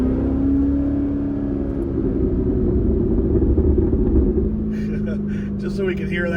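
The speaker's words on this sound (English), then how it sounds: "Just so we can hear that exhaust a little bit" Corvette ZR1 exhaust drones with a steady low rumble and a clear engine tone while the car drives along, with a voice talking over it toward the end.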